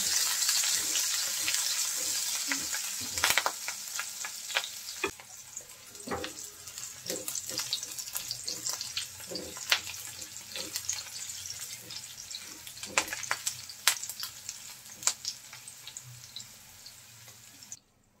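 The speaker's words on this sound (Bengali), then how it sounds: "ছোট্ট একটা পেঁয়াজ কুচি করে নিয়েছি, কাঁচামরিচ দিয়ে দেব। লাল লাল করে ভেজে নেব।" Chopped onion and green chili fry in a pan with a steady, close crackling sizzle and scattered sharp pops, alone with no talk.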